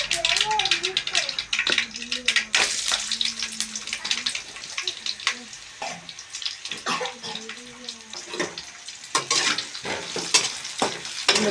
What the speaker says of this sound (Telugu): ఉల్లిపాయ వేసి వేయించాలి